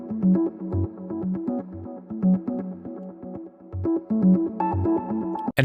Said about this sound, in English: let's have a look at this VR synth loop, which has some more volume jumps.